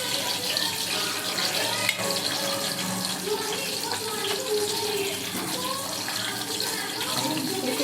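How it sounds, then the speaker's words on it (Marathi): Ready-made snacks fry in hot oil on a gas stove, producing a continuous close crackling sizzle that holds steady throughout, with a voice speaking faintly beneath it. "तेलात टाकायचं आहे, तेल जास्त गरम झालं,"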